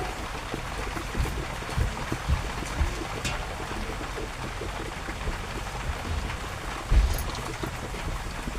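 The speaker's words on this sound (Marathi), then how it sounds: "हे बघा मी ह्याच्यामध्ये साधं नॉर्मल पाणी टाकतोय." Plain water is poured into a pot of whole masoor lentil curry, producing a steady, fairly soft splashing and trickling wash that continues throughout with a few small knocks.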